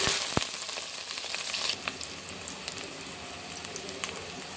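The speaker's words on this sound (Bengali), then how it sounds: "তেল গরম হলে পেঁয়াজ দেব" Onions are frying in hot oil for a beef spleen dish, giving a steady, close, hissing sizzle with a few small crackles and pops and no talking.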